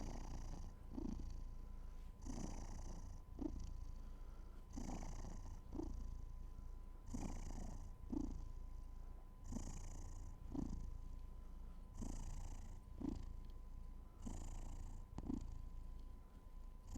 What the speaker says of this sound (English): He's purred.